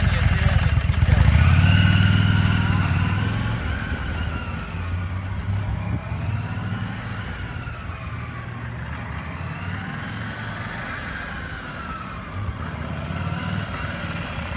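A motorcycle engine runs steadily as the rider lets out the clutch and adds throttle, a loud low rumble that swells near the start, then settles into a humming drone with rising and falling pitch as it pulls away.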